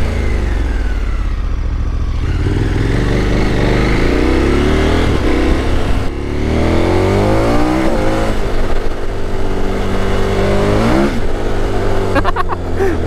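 A 2021 KTM Super Adventure S fitted with an Arrow Sonora exhaust roars loudly while riding, its engine pitch climbing and dropping through gear changes with downshift pops, and a voice speaks over it at times.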